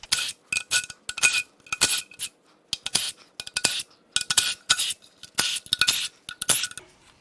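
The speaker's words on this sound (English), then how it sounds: "Now I'm gonna take a moment and unbolt the lower oil pan." Bolts being removed from the lower oil pan of a failed Kia Sorento Lambda II V6 engine, heard as short, close bursts of metallic ratcheting and clinking separated by brief pauses.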